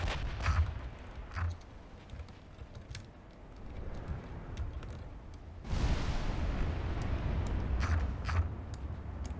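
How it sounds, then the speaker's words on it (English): Naval gunfire from a battleship salvo in Ultimate Admiral Dreadnoughts: heavy low booms and rumbling blasts, with a louder, denser wall of firing rising midway and sustained to the end. "Wow, huge salvo"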